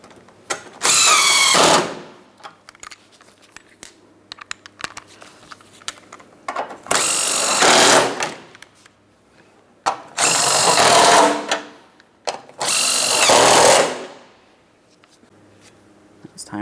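A power tool on a Chrysler Town & Country tightens bumper hardware in four separate loud bursts of a few seconds each, with quiet workshop gaps between them.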